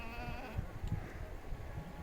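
A flock of sheep on a Himalayan mountain pass trail, bleating in short wavering calls at moderate distance over steady outdoor background noise.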